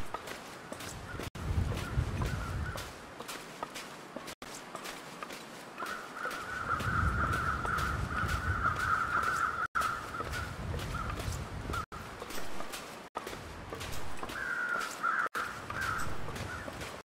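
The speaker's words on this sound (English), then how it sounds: "More crows over there." Crows caw repeatedly in the snowy survival game The Long Dark, harsh calls rising at a moderate distance over a low ambient bed, with occasional soft thumps of movement and no speech.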